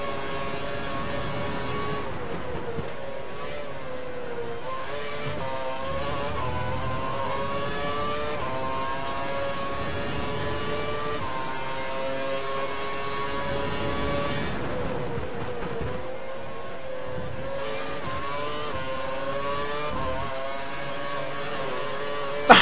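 An F1 car engine in the F1 2012 racing game runs at a steady, continuous whine with shifting pitch and occasional dips that suggest stuttering, with no voices.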